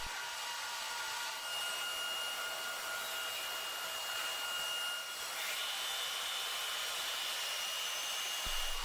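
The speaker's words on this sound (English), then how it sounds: "The machine spindle, equipped with appropriate cutting tools, performs precise boring to create accurate holes, followed by milling to achieve the desired surface finish and dimensions." A high-pitched, steady whine from an industrial machine spindle boring and milling metal, with a constant hiss and faint tonal squeal, continuous throughout and heard alone.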